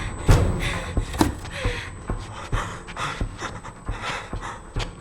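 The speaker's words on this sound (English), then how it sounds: "these guys sure do a lot of loud breathing" Heavy, loud panting breaths from a character in the 2016 horror film Don't Breathe, repeating in quick rhythm with a few thuds and muffled knocks.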